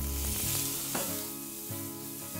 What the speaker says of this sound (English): a big old lump of butter going in now for the mushrooms